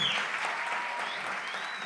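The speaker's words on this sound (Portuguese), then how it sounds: "Eu queria que ele ficasse de pé, se aplaudisse a vida do diácono Rogério, mas bem forte, né?" A church congregation stands and applauds strongly during a celebration service, a dense, even wash of clapping filling the short moment.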